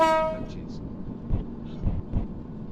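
Train pulling into a station in a Roblox British railway game: a horn blast opens, followed by soft rhythmic clunks and rumbling as it slows, with a voice talking.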